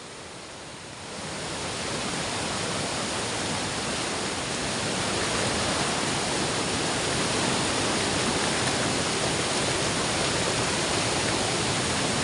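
The Kottappuzha river, overflowing in flood, rushes in a loud, steady roar of water that swells over the first second and then holds constant throughout.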